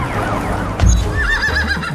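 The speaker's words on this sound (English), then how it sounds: "This damn horse." A horse whinnies nearby, a short, wavering neigh rising over a low background rumble.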